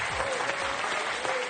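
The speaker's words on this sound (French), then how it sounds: "Applaudissements." A short burst of steady applause from a TV game show studio audience, clapping evenly throughout without voices.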